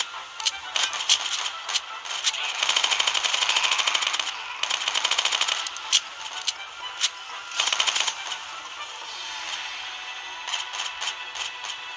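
Rapid bursts of video-game gunfire as zombies are shot in the head, loud clattering volleys separated by short pauses, with faint background game ambience and no voices.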